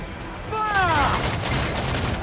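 Ship cannons firing in the game Assassin's Creed 4: Black Flag, with a shouted voice and whistling sweep before a heavy, sustained roar of cannon fire that fills the remaining seconds.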